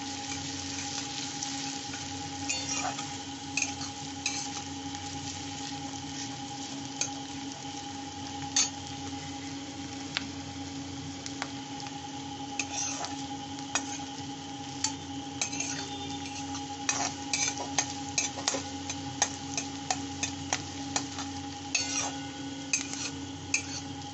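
Chopped onions fry gently over low to medium heat in a pan for fish do pyaza, giving a steady even sizzle throughout. Frequent sharp clicks and scrapes of a spatula against the pan grow busier toward the end.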